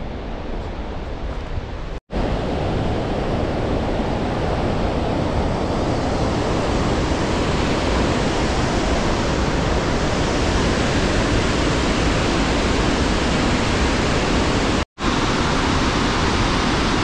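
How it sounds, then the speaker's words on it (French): Steady, loud broadband rush of a waterfall in Norway, continuous and close, with two brief cutouts. "Deuxième cascade."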